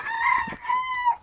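A chicken gives loud, close, drawn-out clucking calls, two rising cries in quick succession with nothing else around.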